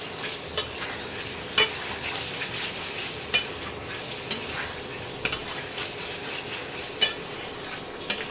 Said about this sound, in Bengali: আলু দিয়ে ভালো করে কষিয়ে নিতে হবে।